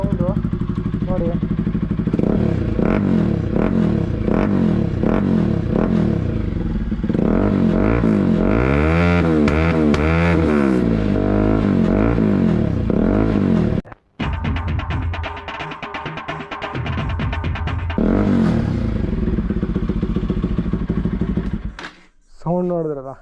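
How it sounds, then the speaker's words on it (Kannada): A Bajaj NS200 motorcycle with an Akrapovic R1M exhaust idles loudly up close and revs repeatedly, its throbbing exhaust note rising and falling, with a brief cut near the middle and someone talking over it. "ಸಖತ್ ಸ್ಮೂತ್ ಆಗಿದೆ ಸೌಂಡು, ರ್ಯಾಶ್ ಆಗಿಲ್ಲ, ಒಂಥರ ಬೇರೆ ಥರ. R1M ಎಕ್ಸಾಸ್ಟ್ ಇದು."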